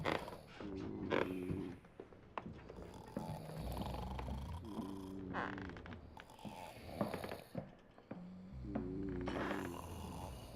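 Sailors snoring below deck aboard a ship in The Pale Beyond, slow rhythmic snores with rattling, purring inhales repeating about every few seconds, close and fairly loud over a faint ambient background.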